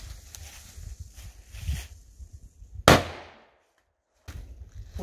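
A firecracker set off inside an abandoned bunker gives one sharp, very loud bang that rings out in a short echoing decay. Rumbling shuffles come before it, then near silence, then the shuffling returns.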